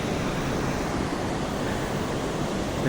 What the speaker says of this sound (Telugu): ఇదే మధుగంగా నది.